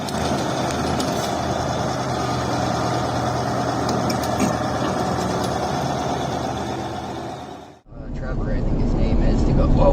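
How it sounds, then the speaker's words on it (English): A wheel loader drags a heavy marble block backward, its engine droning loudly and steadily with a rough, grinding texture throughout, briefly cutting out before resuming just as loud. "let the weight of the marble block lift the rear of the loader, then slowly lower the back of the machine and drag the block in reverse"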